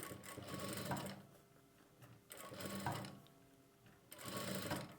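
Sewing machine stitching one side of an invisible zip, running in three bursts of steady mechanical whirring separated by brief pauses, close and clear with no voices.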